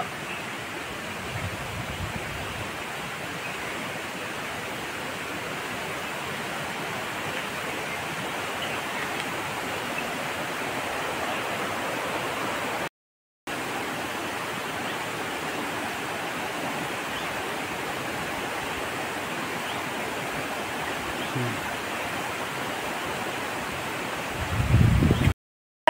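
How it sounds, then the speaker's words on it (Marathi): Nalkund waterfall near Buldhana, a steady broad rushing roar of falling water, continuous and even for the whole stretch apart from a brief dropout, with a short bump of wind or handling near the end. "हे बघा धबधबा"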